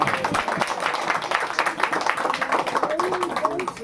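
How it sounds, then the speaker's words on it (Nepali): Wedding guests clap at a ceremony, a dense, rapid patter of many hands continuing steadily for several seconds while voices talk underneath. "ल, ताली बजाउनु न।"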